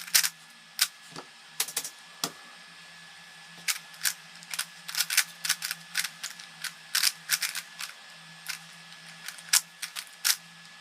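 A 3x3 Rubik's cube is turned during a speed solve, giving bursts of sharp plastic clicks and snaps close up, clustered in quick irregular runs with short pauses between.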